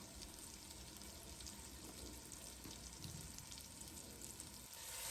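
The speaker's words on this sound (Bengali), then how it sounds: "এ পর্যায়ে সবগুলো মশলাকে আমি আরও কিছুক্ষণ ভেজে নিব যাতে করে মশলার যে কাঁচা গন্ধ সেটা চলে যায়" Ground coriander and cumin with other spices frying in a pan for a traditional Bengali duck curry, a soft, even hiss of sizzling, fairly faint and continuous, with no talking.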